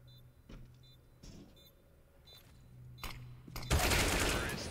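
Counter-Strike match on the Nuke map in a tournament final between mousesports and NiP: scattered in-game gunshots and clicks, then a loud burst of rapid automatic fire, under a caster's excited commentary.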